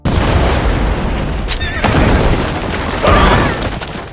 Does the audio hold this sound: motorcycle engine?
no